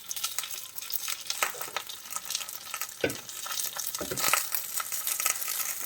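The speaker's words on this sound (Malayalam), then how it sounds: "നമുക്ക് കുറച്ച് എണ്ണ കൂടി അതിൻ്റെ ചുറ്റിലൊന്നും ഒഴിച്ചു കൊടുക്കാം." Pearl spot fish frying in oil on a banana leaf over a low flame, a steady close crackling sizzle with occasional spatters and scraping stirs.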